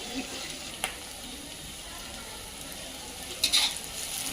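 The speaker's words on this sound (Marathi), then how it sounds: "दोन मोठे कांदे चिरून बारीक टाकले चांगला भाजून घ्यायचा कांदा" Chopped onions fry in oil with cumin and mustard seeds for Maharashtrian zunka, a steady close sizzle broken by a few sharp clicks and a brief louder burst near the end.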